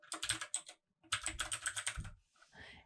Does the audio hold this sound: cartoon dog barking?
no